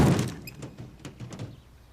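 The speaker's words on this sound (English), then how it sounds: "The door falling." A car door in the 1995 comedy Tommy Boy trailer falls off with a loud metallic thunk and clatter at the start, followed by a few smaller knocks and rattles that fade out.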